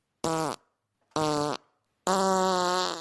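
A voice imitates a cartoonish fart noise: two short buzzy blurts followed by a longer, sustained raspy one, loud and close with silent gaps between.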